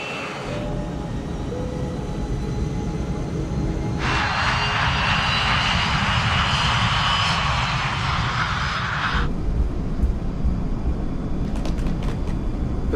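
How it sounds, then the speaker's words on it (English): Airliner engines spool up during the takeoff roll of West Caribbean Flight 708 at night from Panama, a steady loud roar with a brighter, louder surge in the middle before easing back to a constant drone. "runway 21 left, cleared for takeoff."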